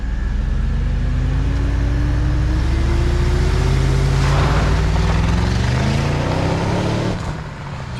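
A Mazda RX-8 accelerates hard on gravel with traction control engaged. The engine is loud and close, its pitch rising steadily through the revs with a brief drop near the end, and loose stones crunch beneath the tires.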